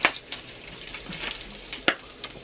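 Bacon fries in a hot cast iron pan during breakfast cooking, giving a close, steady sizzling hiss broken by a few sharp pops or clinks, with no voices.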